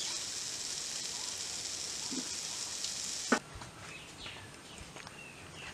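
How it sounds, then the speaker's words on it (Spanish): Two plantains (plátanos machos) frying in a pan give a steady, faint hiss of sizzling oil, broken by a sharp clatter partway through, after which the sizzle continues more softly. "Vamos a freír nada más 2 plátanos machos."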